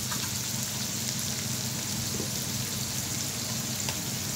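Onions and tomatoes fry together in a pan over a medium flame, giving off a constant, close crackling sizzle with no talking over it.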